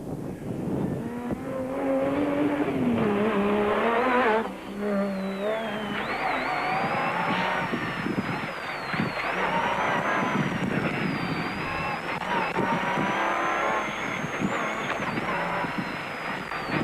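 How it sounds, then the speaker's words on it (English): Ford and Toyota race cars at the 2003 Tarka 400, engines droning and rising in pitch as they pass, continuous and fairly loud, with a commentator talking over them. "Woolridge wasn't happy with the handling of the Ford, which deteriorated as their fuel load reduced."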